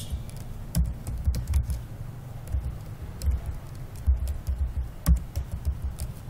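Computer keyboard keys are tapped in short, uneven bursts over a low background hum while a ledger is entered in Tally accounting software. The clicks are moderately close, with a few sharper strokes standing out.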